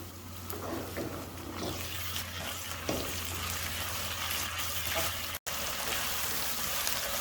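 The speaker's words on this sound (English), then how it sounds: "Now we'll saute it for about 15 to 30 seconds." Green chili, ginger and aromatics sauté in a hot pan for a tongue curry, giving a steady, close sizzle with a low hum underneath and a brief dropout near the end.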